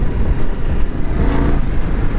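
An Indian Scout motorcycle engine pulls hard while riding, a steady loud drone with wind rush and no talking.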